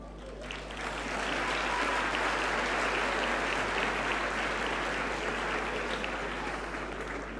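An audience at a university science week launch event breaks into sustained applause, a dense, steady wash of clapping that swells within the first second and holds loud to the end.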